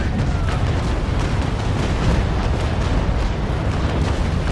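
Cannons firing a broadside in the Naval Action ship-combat game, a dense, continuous roar of overlapping booms that stays loud and close throughout, with no gaps between the blasts.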